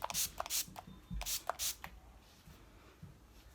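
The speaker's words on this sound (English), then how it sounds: "the finishing spray, I love that, so just kind of shake it, spray against your face." A makeup finishing spray is shaken and then misted onto a face. Quick close hissing spritzes and short shaking bursts come in a loose burst-and-pause rhythm, faint and near, with no talking.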